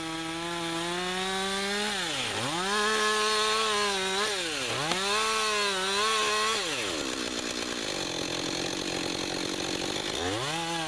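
A chainsaw cuts through a downed spruce blowdown log outdoors, its engine rising and dipping in pitch as the bar bites in and eases off, loud and close throughout with no talk.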